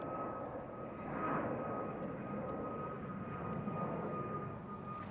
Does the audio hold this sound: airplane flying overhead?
yes